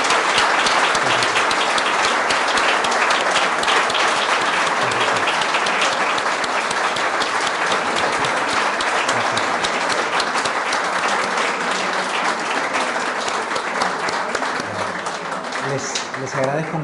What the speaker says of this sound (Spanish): Y a ustedes, por favor, un fuerte aplauso para Andrés.